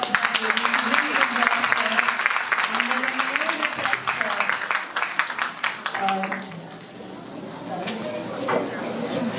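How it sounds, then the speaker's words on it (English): Applause rings out at a grade 3 graduation ceremony, a dense wash of clapping that carries through with voices mixed in and thins slightly toward the end. "A big round of applause for her."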